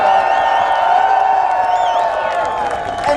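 A rally crowd at Queen's Park cheers with whoops and shouts for vape shops, a continuous loud roar of voices with scattered claps and high whistles throughout.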